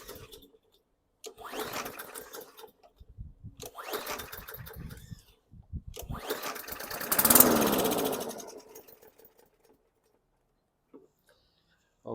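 A 2017 Yard Machines push mower that sat unused in storage is pull-started: several rough sputtering bursts, then the engine catches and runs loudly for a couple of seconds before dying back to silence.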